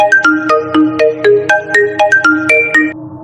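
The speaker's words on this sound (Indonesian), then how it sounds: "suara-suara dari ponsel berdering serempak." A loud electronic ringtone plays a quick repeating melody of bright beeping notes, several mobile phones ringing in unison in a busy rhythmic pattern, then stops.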